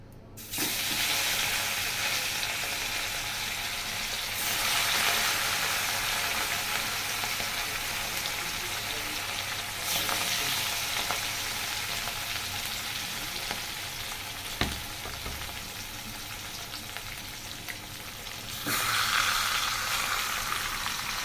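A large fish head fries in hot oil, a loud, continuous close-up crackle and sizzle that swells and eases over about twenty seconds, with an occasional faint clink and no talk.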